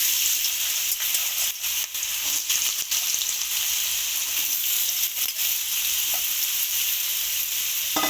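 Potatoes sizzle in hot oil in a wok, a loud continuous frying hiss with occasional sharp crackles and stirring clicks, heard close up without any talk.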